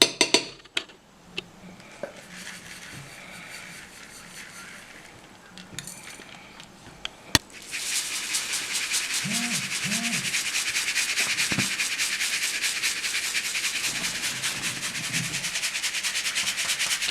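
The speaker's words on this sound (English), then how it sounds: "Now we have to strain by using floor strainer to take out the fine grind powder." Fine-ground powder is shaken through a flour strainer: a few soft clinks and taps in near silence, then a steady, close, hissing rustle of sifting that runs unbroken for about ten seconds.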